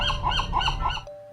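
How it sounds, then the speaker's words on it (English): A gull gives three quick squawking calls that rise and fall in pitch, close and clear, then cuts off abruptly. "This is a gull."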